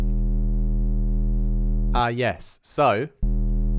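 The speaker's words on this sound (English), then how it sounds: "I managed to get a sine wave to have this lovely movement in by modulating the level on an LFO with a really, really, really, really fast rate" A synthesized sine-wave bass in the Vital synth, its level modulated by a very fast LFO, holds a loud, sustained low tone. It is briefly cut off while a voice speaks, then resumes.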